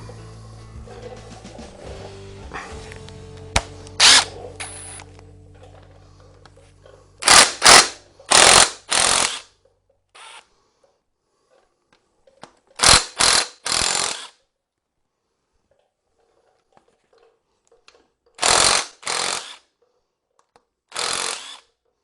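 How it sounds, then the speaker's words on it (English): Impact wrench working on a conrod big end of a Morris Minor engine block during strip-down, several loud rattling bursts separated by pauses after some quieter handling at first. "using an impact on a conrod big end"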